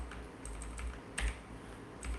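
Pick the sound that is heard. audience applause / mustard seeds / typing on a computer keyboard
typing on a computer keyboard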